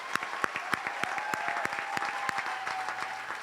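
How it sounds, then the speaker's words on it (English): Audience applause at a comedy roast celebrating a 40th birthday, a steady wash of clapping with sharp individual claps standing out, loud and close, holding through to the end with no speech. "Let's give him a big round of applause."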